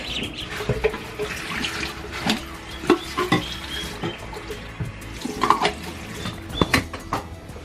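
Water splashes and trickles into a dish for ducks amid light clinking and stirring, with irregular soft bursts of pouring.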